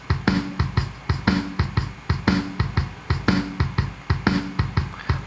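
Programmed EZdrummer groove in Reaper with closed hi-hats ticking steadily over punchy kick and snare hits, a tight repeating beat with no voices.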